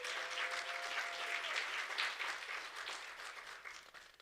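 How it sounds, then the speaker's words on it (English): Faint, distant audience applause at a Women in Media event, a steady patter of many hands clapping that holds for several seconds before tapering off, with a brief tone near the start. "A big round of applause for Mate Okaba."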